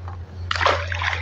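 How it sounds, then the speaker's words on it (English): A small channel catfish released at Beaudry Provincial Park, splashing back into the water in one brief, soft burst after a moment of quiet, with a low hum underneath. "another catfish back to the water."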